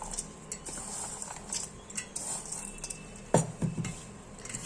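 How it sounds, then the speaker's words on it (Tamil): Jaggery and coconut mixed together by hand in a bowl, giving soft irregular squishing, patting and light knocks against the bowl, close and fairly quiet, with no talk. "இந்த வெல்லம் நம்ம இதுல போட்டு ரெண்டையும் மிக்ஸ் பண்ணிடலாம்."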